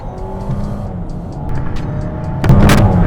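A 2019 Mercedes A250 accelerating, its engine a steady broadband drone that builds gradually, then surges louder near the end with a burst of rushing noise, all without talk.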